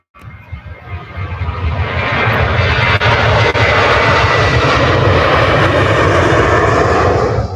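TUI jet aircraft at Manchester Airport, engine roar building quickly from near silence to a loud, close, sustained blast that holds steady to the end.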